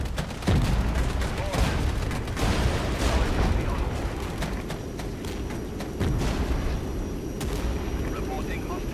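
Cluster artillery strike in the wargame Regiments, heard as dense rumbling volleys of many blasts and booms, loud and sustained, with repeated impact bursts and a voice talking underneath.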